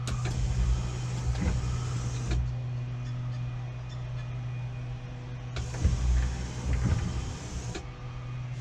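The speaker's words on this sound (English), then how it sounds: "Let's turn the ignition on, and then let's try the wipers." A Land Rover Defender windscreen wiper motor with new wheel boxes and wipers runs in a steady whirring hum, sweeping in two clear cycles with a rising whine on each pass.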